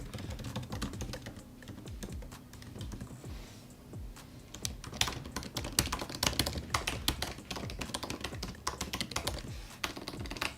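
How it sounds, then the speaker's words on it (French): Quiet typing on a MacBook Pro 16-inch keyboard, a rapid stream of soft, close key clicks with uneven rhythm, steady and faint with no talking. "Au niveau de la tape, il est plus silencieux aussi"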